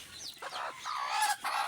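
Newly hatched native chicks peep softly in a brief, faint burst of high, thin chirps, several overlapping calls with no talking.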